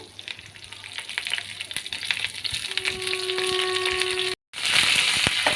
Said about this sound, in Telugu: పోపు మొత్తం వేయించుకోవాలి.